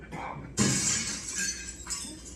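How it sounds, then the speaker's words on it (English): A window pane shatters in a radio-drama sound effect: a sudden loud crash of breaking glass followed by a second of tinkling, scattering shards, with a brief murmur just before the break. "Your window, Candy. It just shattered."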